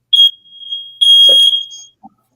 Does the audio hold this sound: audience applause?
no